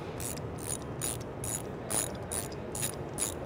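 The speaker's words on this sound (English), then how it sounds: "grab the 5/8 spark plug socket, which will fit snugly over top of the socket" A ratchet fitted with a 5/8 spark plug socket loosens a spark plug, making a run of quick, crisp clicks in short evenly spaced bursts, close and clear with no talk.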